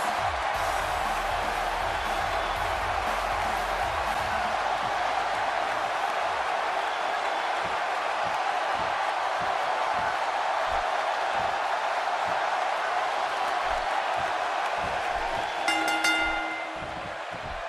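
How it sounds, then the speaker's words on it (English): Arena crowd in a WWE 2K wrestling game in Baltimore on Monday Night Raw: a dense, steady roar of cheering and applause throughout, with a brief bright chime near the end. "Listen to this crowd."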